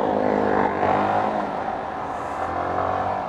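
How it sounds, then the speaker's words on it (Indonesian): A Yamaha R15 motorcycle engine hums steadily during a test ride, a smooth, fairly loud, muted drone with slight rises in pitch and no speech over it. "Motor ini kalem ya. Suaranya nggak bacok gitu loh."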